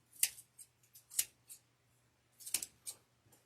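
Scissors snip and clatter in short, sharp bursts while a wreath is made, a few close metallic cuts spaced apart over a quiet room hum.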